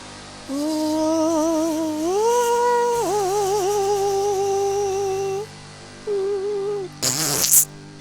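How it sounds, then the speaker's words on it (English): A synthesized farting noise from the Sega Genesis game Rise of the Robots, a loud buzzy tone sliding up and wavering for about five seconds, then a short second burst and a brief noisy crunch. "Another thing to notice is that farting sound."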